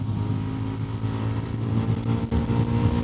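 A motorcycle engine runs steadily and loud with a low rumbling drone throughout, swelling slightly near the end, with no voices over it.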